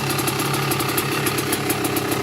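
A 2000 CR80 big wheel dirt bike fitted with a freshly rebuilt 1988 CR 250 two-stroke motor idles close by, loud and steady with a rapid, crisp popping rhythm and no talk over it.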